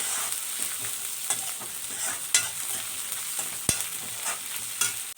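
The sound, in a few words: frying and stirring spices in pan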